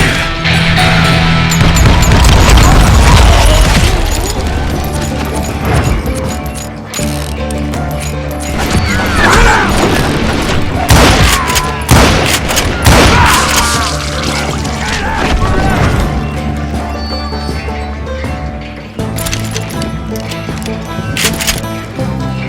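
Call of Juarez Gunslinger firefight against a crowd of gunmen: loud, dense gunshots and crashing impacts keep going throughout, layered over game music and effects.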